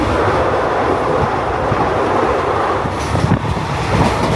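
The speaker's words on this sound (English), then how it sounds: "we are riding a train all the way from Bangkok to Chiang Mai." A sleeper train travelling from Bangkok to Chiang Mai runs with a continuous rumbling roar heard from inside the carriage, steady and close, with a few rattles and wheel clatter near the end and no talking.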